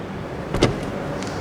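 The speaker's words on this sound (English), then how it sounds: "I just want to compliment the sound of the door." A Volkswagen ID.5 car door shuts with a single muted, solid thud, close and fairly quiet, followed by a short faint rattle.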